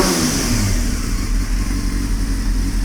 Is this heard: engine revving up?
yes